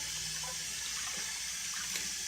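Tap water runs steadily into a sink with a constant splashing hiss as part of a Vidalia Chop Wizard is rinsed beneath it.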